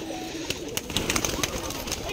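Pigeons coo at a busy outdoor pigeon market, soft repeated calls mixed with clattering, rustling crowd noise and background voices.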